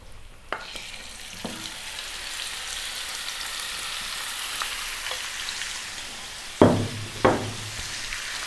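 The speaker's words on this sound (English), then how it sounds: "cooking this beef away" Seasoned beef frying in a pan over medium heat for a stew, a steady low sizzle throughout with a couple of louder bursts of crackle and spatter near the end, no talking.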